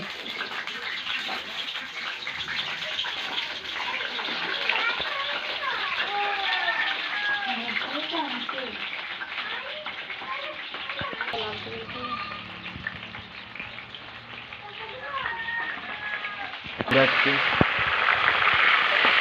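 Pointed gourd (potol) frying in hot oil for chops, a steady crackling sizzle that runs throughout under faint bird chirps and background voices, with a louder burst of spattering near the end.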